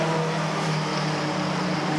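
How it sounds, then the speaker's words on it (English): Mini stock race cars roar past on an oval track, their engines and exhausts merging into a dense, loud, continuous drone with a steady buzzing pitch, heard without any talking. "try and listen to a single exhaust when they come around"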